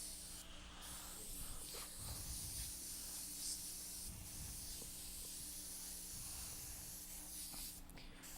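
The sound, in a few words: airbrush spraying paint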